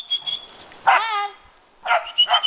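A two-year-old dog named Cesar barking outdoors during recall training: short barks with a whine-like yelp between them, close and fairly loud, alternating with a person calling.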